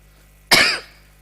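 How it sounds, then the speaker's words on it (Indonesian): A single sharp cough bursts out close and loud in a quiet room during an Indonesian lecture on history and literature, then fades quickly. "Batuk."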